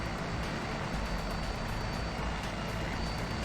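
Simulated helicopter engine and rotor in a flight simulator, flying a chopper tour over Peruvian volcanoes and Lake Titicaca, a steady dense droning roar with no letup, loud and continuous throughout.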